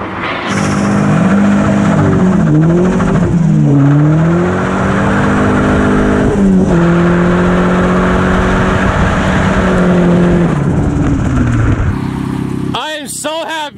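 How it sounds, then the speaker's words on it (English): A 1990 Mazda Miata and a 1996 V8 Mustang racing on spare tires, engines roaring loud and close with rising and falling revs and tire noise, with voices speaking over them. "We're gonna take the 1990 Mazda Miata up against the 96 V8 Mustang."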